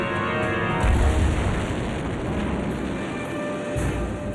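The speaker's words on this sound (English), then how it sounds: "He had watched the explosion from a short distance away" A 1-kilogram bomb goes off in a wartime assassination attempt on Hitler, a deep boom about a second in that gives way to a sustained, roaring rumble.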